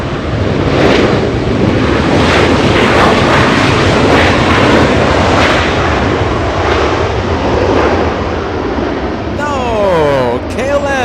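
Delta Air Lines airliner arriving from Atlanta, Georgia at Los Angeles International Airport, a loud close engine roar and rushing wind that holds steady then dips, with someone talking over it.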